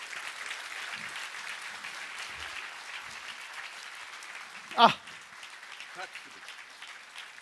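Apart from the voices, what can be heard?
audience applause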